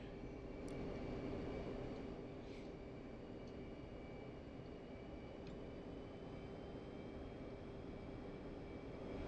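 A steady, distant jet engine drone, an F-15 rolling for takeoff in a flight video game, holds at a low, even level throughout with a faint tonal whine and no speech.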